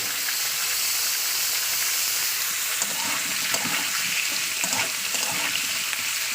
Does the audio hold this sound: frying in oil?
yes